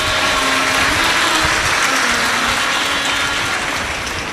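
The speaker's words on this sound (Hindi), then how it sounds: "एक बार जोरदार ताली बजाओ" A large audience at a Shiv Mahapuran katha gathering in Bhilai, Chhattisgarh claps loudly and continuously, a dense, even roar of applause filling the whole moment.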